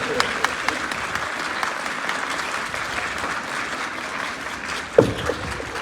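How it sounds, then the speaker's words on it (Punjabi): An audience claps loudly for competitors at a Punjabi literary gathering in Dhahan Kleran. The dense, steady applause continues throughout, with a sharper thump near the end. "ਜ਼ੋਰਦਾਰ ਤਾੜੀ ਸਾਰਿਆਂ ਦੀ ਬਣਾਓ"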